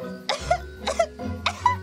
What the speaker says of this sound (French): juste une petite toux